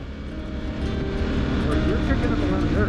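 Motorcycle engine droning steadily with the throttle opened on a winding woodland trail near Lassen, the engine growing louder after the first second and continuing under a man's speech.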